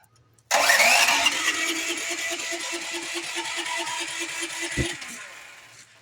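An engine running on two 100 lb tanks starts up abruptly and settles into a loud, steady running note, then a sharp bang sounds near the end before it fades.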